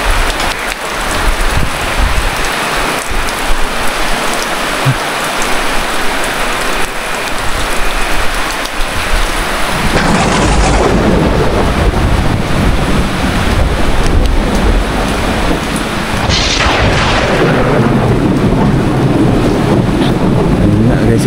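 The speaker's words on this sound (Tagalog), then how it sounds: "Lumakas ang ulan guys." Heavy rain roars down outdoors, a loud continuous wash that swells midway with gusts and heavier downpour; no distinct thunder claps are evident, and no one speaks.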